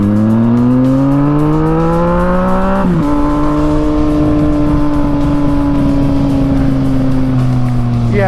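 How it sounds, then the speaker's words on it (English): A loud Yamaha MT-09 (FZ-09) motorcycle engine revs up steadily in rising pitch, drops briefly, then holds a high droning whine before easing off near the end. "the sound of a motorcycle is definitely part of the experience of motorcycling"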